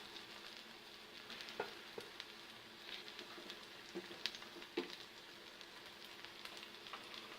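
Ragi and drumstick leaf cutlet frying in a pan, a soft steady sizzle with faint crackles and occasional small pops throughout, quiet and close with no talking.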